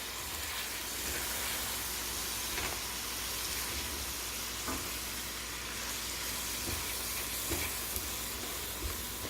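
Egg roll in a bowl mixture sizzling steadily in a hot pan as it is stirred, a continuous bright hiss with occasional soft scraping ticks.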